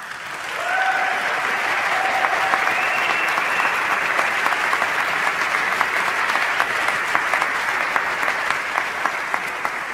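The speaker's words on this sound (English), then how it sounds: "You really should be clapping for them" A graduation audience at the 2021 commencement claps for the graduating class, a loud, sustained wall of applause that swells in the first second and stays full with scattered sharper claps and a few cheers.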